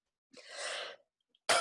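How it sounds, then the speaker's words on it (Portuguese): A woman clears her throat during a talk, one short raspy burst followed by silence and then the start of another rough sound. "Eu acho que é pigarro mesmo."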